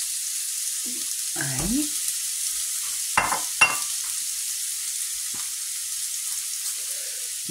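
Onion frying in hot oil makes a steady, bright sizzle throughout, with a couple of light utensil clatters and a brief spoken word.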